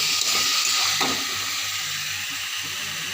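Vegetables sauté in a pan over low heat, making a steady, close hiss of gentle sizzling with a brief stirring scrape near the start.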